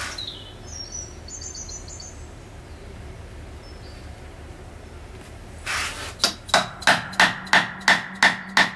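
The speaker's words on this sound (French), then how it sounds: "Et là, on va venir frapper avec le maillet en tire-bond." A rubber mallet strikes a hollow punch while cutting a hole in the thermal and sound insulation pad of a Peugeot 206 engine hood. About seven sharp, evenly spaced knocks come close after a stretch of quiet with faint birdsong.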